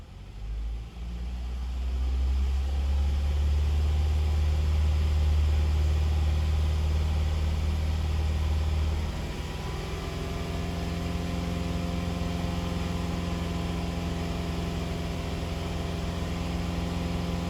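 A Saturn Vue engine with a flashing check-engine light, revved up and held at a steady elevated speed, producing a constant hum that shifts slightly partway through and continues evenly with no talking.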